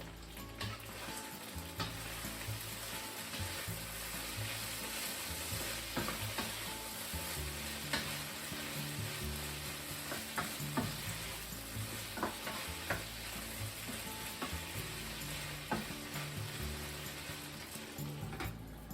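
Pork and eggplant sizzle steadily in a hot pan as a utensil stirs and scrapes, with occasional clicks and knocks against the pan.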